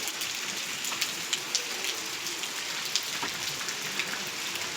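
Gentle, steady rain falls over a village, a soft continuous patter with scattered sharper drops ticking on nearby surfaces, heard alone without voices.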